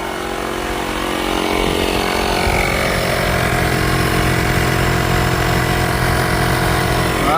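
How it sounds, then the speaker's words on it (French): A power tool drives off the wheel of an Audi A8, its loud, steady buzzing whine building within the first second and then holding continuous and close with no talk. "je vais enlever la roue et mettre une mèche."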